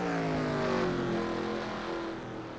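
A race car leaving pit road at Martinsville Speedway during a short-track stock car event, its engine a loud, steady, droning whine sustained close by with a slight drop in level at the end.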